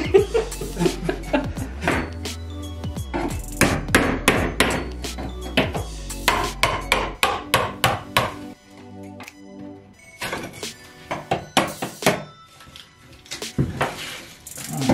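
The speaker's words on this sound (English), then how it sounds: "So I'm going to cut the hole in the wall behind the sink so the plumber could come through and run the pipe." Cutting a hole in the bathroom wall behind the sink during a small bathroom demolition, loud close knocks and thwacks in uneven bursts with scraping in between, a pause midway, and some chuckling voices under the work.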